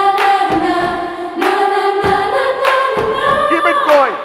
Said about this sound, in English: put your hands together now with a clap